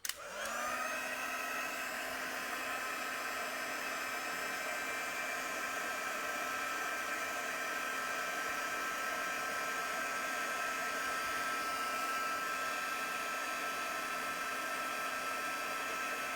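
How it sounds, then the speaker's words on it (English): A craft heat tool blows steadily to melt embossing powder on a stamped card, a close, constant whooshing hum with a faint tonal whine that starts abruptly and holds unbroken with no talk. "And then I can heat that with my heat tool."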